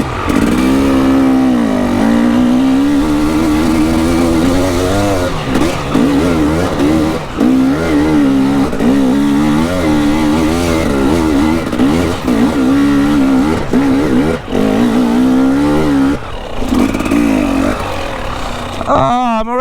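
Enduro dirt bike engine revving on a trail, ridden by a pro enduro rider: loud, close, continuous engine with its pitch rising and falling as the throttle is worked, heard throughout with no talk.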